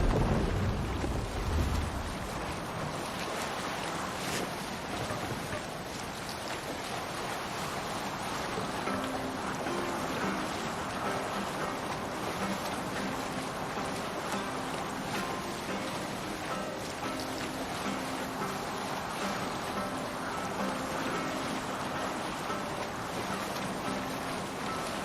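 Viking longship under sail in Assassin's Creed Valhalla, a steady wash of water and wind rushing past the hull, continuous and moderately quiet, with no talking over it.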